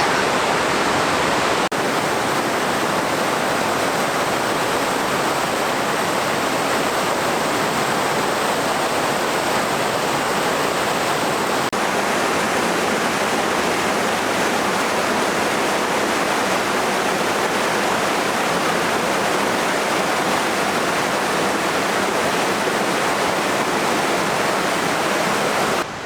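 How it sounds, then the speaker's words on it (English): A river flows steadily beside a backcountry campsite in British Columbia, its broad, continuous rushing close and loud throughout with no voices. "And the river is right here."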